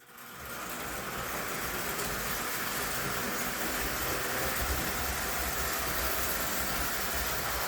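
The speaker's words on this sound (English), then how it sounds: "we'll get them started and we'll just run them around the track" A small toy train runs steadily around its track, a continuous whirring motor hum with a faint rattling clatter, close by and unbroken.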